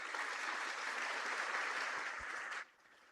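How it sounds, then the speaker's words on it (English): An audience claps steadily for a few seconds at an international conference, a dense, even patter that stops abruptly near the end. "Please have a round of applause."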